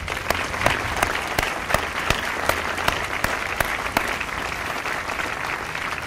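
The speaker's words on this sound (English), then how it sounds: "Let's give them another round of applause." An audience at a U.S. Army Forces Command assumption of command ceremony applauds the soldiers, a broad, steady crowd clapping with distinct sharp claps punctuating it at fairly regular intervals, holding level throughout.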